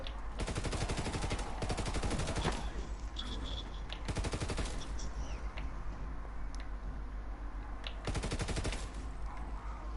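An MG15 machine gun in Call of Duty WW2 Zombies fires long, loud, rapid bursts, several sustained strings of shots separated by short pauses, with game effects in between.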